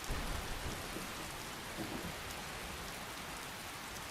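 Steady, dense rainfall in a Skyrim weather mod, a constant wash of hissing drops that never lets up. Loud and enveloping, with no voices.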